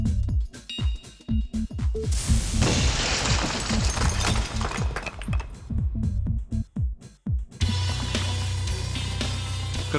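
Blasting demolition charge fired by a detonator, where a detonator cap set off by fuse or electric current triggers the explosive: loud crashing blasts and debris roar rolling on for several seconds, then a steady low rumble.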